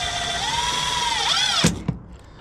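A cordless drill whines steadily while driving fasteners through J channel and soffit on a new building, its pitch dipping as the screw seats, then two sharp clicks as it stops.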